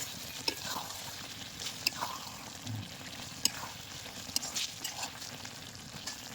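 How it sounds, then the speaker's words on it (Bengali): Pointed gourd curry with rice paste and coconut milk is gently stirred in a pan: soft, quiet scraping and light sizzling with scattered small clicks of the spoon against the pan. "এবার একটু আমি হালকা নাড়াচাড়া দিয়ে নেব।"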